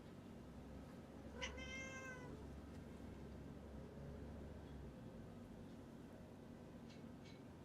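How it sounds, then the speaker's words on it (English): A small pet cat meows once with a clear, rising-and-falling call, fairly close, over a steady low hum in an otherwise quiet room. "Do you hear my little cat?"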